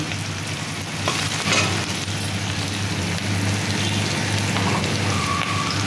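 Chopped onions fry in hot oil in a pan, a dense, steady sizzle with faint crackles and an occasional stir, close and fairly loud, with no talking.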